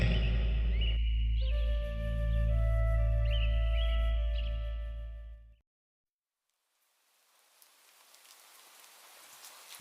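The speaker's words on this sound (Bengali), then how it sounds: "বৃষ্টি পড়ছিল সেই দিন" A soft tonal melody plays, cuts to silence, then a gentle hiss of falling rain fades in and grows steadily louder toward the end.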